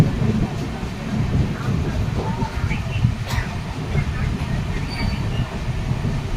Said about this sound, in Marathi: ट्रेन वगैरे येते तिथूनच येतात ना ते असे रेल्वे ट्रॅकवर